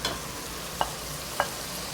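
Squid sautéing in a small pan with onion, garlic and peeled, seeded chopped tomato, a soft steady sizzle with two brief stirring clinks of a utensil against the pan.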